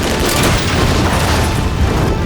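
A grenade bitten by a soldier explodes in the 2025 film Sinners: a loud, dense blast with a roaring, crackling tail that fills the whole moment, close and without speech.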